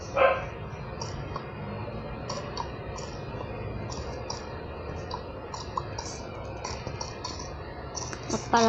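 A dog in Minecraft Bedrock Edition gives brief, fairly faint barks scattered over a steady hum of game ambience, with a louder burst near the start and end.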